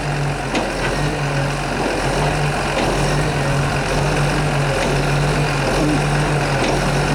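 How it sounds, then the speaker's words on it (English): A John Deere 648GIII skidder idling with its differential locks engaged while it steers right and left, a steady low diesel drone with a faint tonal hum and occasional clunks, close and continuous, no talking. "Steering the machine right and left with these differential locks engaged."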